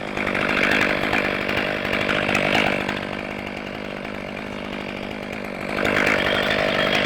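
Carbureted chainsaw running steadily through oak firewood rounds, a loud, close, continuous buzzing drone that dips slightly mid-cut and rises again near the end, with no voices.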